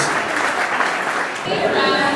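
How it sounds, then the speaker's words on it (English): Dense, steady clapping from a wedding crowd for the bride and groom fills the whole stretch, with a brief dip near the middle before it swells again; voices mingle underneath. "huge round of applause for the bride and groom"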